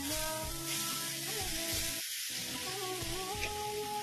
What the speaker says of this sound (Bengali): এই যে আমি মাছগুলো সব ভেজে নিচ্ছি